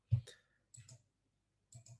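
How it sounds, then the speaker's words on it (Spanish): A computer mouse clicks on a spreadsheet control: three close, crisp pairs of clicks spaced about a second apart, with near silence between them. "Por cada valor que yo voy haciendo un clic en el control, me cambia la fila."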